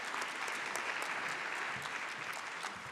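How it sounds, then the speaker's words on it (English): Conference audience applauding a motion, dense sustained clapping from a large hall crowd, steady and fairly loud throughout. "let's give them a clap"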